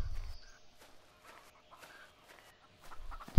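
Chickens clucking in the survival video game Gone Survival, scattered soft clucks over a quiet ambient background, with light footstep-like sounds and no talking.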